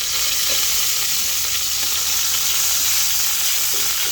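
Bitter gourd (ampalaya) sautés in a hot pan with a constant, loud, close sizzle and occasional soft stirring scrapes, with no one talking.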